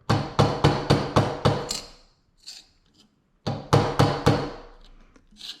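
A hammer striking metal tabs, delivering two bursts of sharp, ringing blows, about five or six quick evenly spaced hits each, separated by a short pause with faint handling noise, close and loud with no voices.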